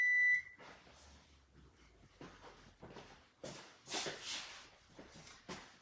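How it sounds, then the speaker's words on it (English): A kitchen timer goes off with a short, bright electronic beep at the start while a fathead pizza is being made, followed by soft shuffling and clattering handling noises. "Oh, there goes my timer."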